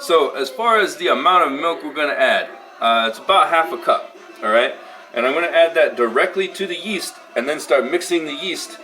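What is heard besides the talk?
No distinct noise like a dog, phone or traffic.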